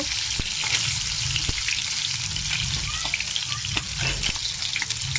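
Crispy fritters frying in hot oil give a steady, close sizzle with crackling pops that runs throughout, with no voices.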